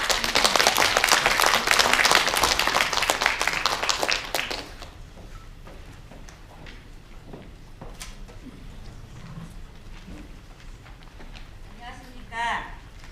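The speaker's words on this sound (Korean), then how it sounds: "큰 박수 부탁드립니다." A hall audience gives loud applause for a nurse presenter at a home-care nursing program briefing. Dense clapping fills the first four seconds, then stops abruptly, leaving room tone, scattered small sounds and a brief murmur near the end.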